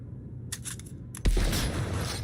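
A PS-11A plasma gun fires in Cyberpunk 2077 at a gun range: one sudden, loud low-heavy blast, preceded by a few faint clicks and followed by a sustained roaring burn.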